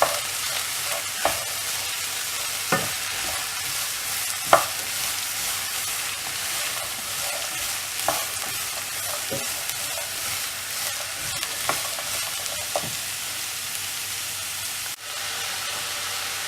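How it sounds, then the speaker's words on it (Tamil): Radish pieces sizzle and fry steadily in a pan, a continuous broadband hiss broken by occasional sharp scrapes and taps of a stirring spoon, with no talking. "முள்ளங்கி போட்டுட்டு இதை நல்லா வதக்கி விடணும்."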